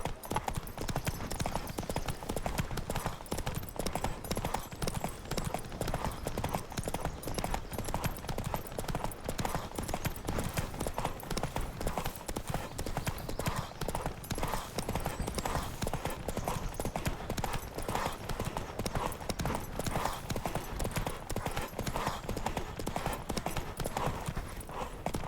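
Rapid, continuous hoofbeats of a horse galloping in a race in Witcher 3, a dense drumming rhythm that runs unbroken and loud throughout, with faint voices underneath.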